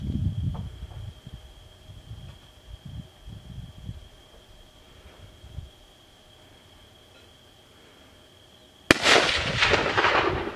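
A single sharp, loud gunshot cracks out near the end of a hunt, breaking a quiet stretch of faint rustling and low murmurs, and is followed by a burst of lingering noise.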